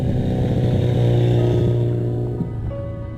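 A motorcycle engine idles and revs with a steady low throbbing rumble, holding loud and close before easing slightly toward the end.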